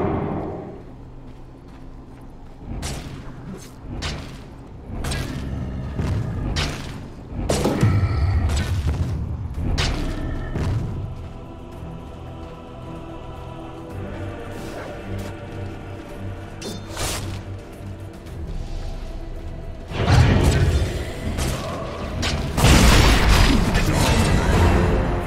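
Dota 2 combat at a tower under attack: repeated heavy thumps, booms and crashing impacts land in irregular bursts, thickening into a dense clash of hits and whooshes toward the end.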